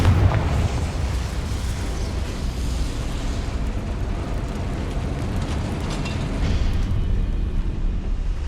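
A Confringo blasting curse in Hogwarts Legacy sets off a loud, rumbling explosion that roars continuously and swells again near the end, with no talk over it.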